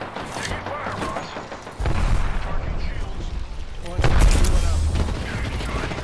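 Gunfire in Apex Legends, loud bursts of shots and booms that swell at two points amid a dense, noisy battle mix.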